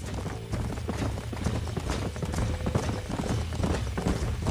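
Horse hooves clip-clop in a steady galloping rhythm in the video game Red Dead Redemption, with a herd of horses running close and loud, faint mechanical clatter underneath, no talk.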